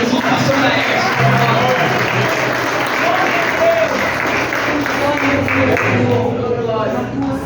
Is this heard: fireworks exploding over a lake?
no